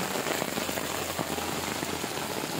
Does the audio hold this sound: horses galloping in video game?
no